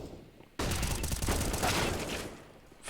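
Burst of gunfire in a tactical shooter video game: a sudden loud onset of dense, rapid shots that holds steady for about two seconds before tapering slightly, with no talk over it.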